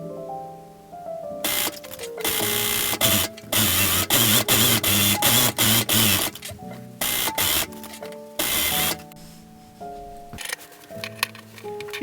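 A sewing machine runs in several bursts, stitching two fabric pieces of a newborn cocoon's angel wings right sides together, with short pauses and soft handling noises between the loud runs.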